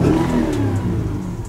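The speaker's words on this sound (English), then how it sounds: "Let's go ahead and have a listen to the engine while we're sitting inside this car." A Mercedes-Benz S550 4MATIC V8 engine revs up in a steady roar with rising and falling pitch, heard close and loud from inside the car, with no voices.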